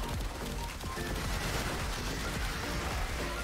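Acceltra Prime missile launcher firing in the Warframe video game: a dense, continuous barrage of rapid, overlapping blasts and explosions, loud and sustained throughout with no pauses.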